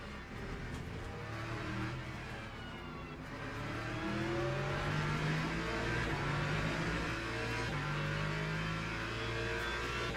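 Hypercars race at Le Mans in a racing video game, engines droning and rising steadily in a continuous, moderately loud roar without pause.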